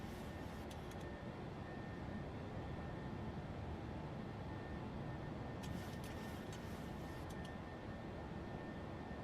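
Low, steady engine roar inside the cockpit of a PMDG 737-800 Freighter just airborne after takeoff in a flight simulator, a constant dense rumble with a few faint clicks, no voices.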